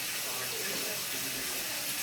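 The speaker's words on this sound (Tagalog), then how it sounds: "Lagyan na natin ng tubig sa gilid-gilid." Water poured from a tap-like stream around the sides of chicken feet cooking in a pan, a steady close, broadband rush and splash with no break through the whole moment.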